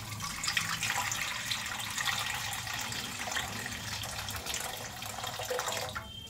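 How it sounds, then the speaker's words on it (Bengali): Water poured into a kadai for cooking Maggi with egg and vegetables, a continuous close splashing trickle that runs steadily for several seconds with no voices. "ওই কড়ার মধ্যেই দিয়ে দিচ্ছি জল"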